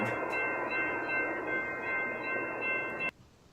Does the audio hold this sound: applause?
no